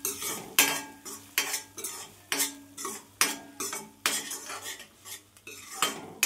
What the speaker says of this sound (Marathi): छान मसाला परतून घ्यायचा तेलामध्ये.